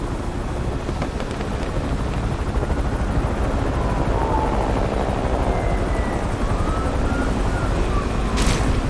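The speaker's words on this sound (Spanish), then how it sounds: "El helicóptero ha entrado en escena, control." A police helicopter in the Need for Speed racing game, rotor thumping loudly and steadily throughout, close and continuous with a windy roar and no talking.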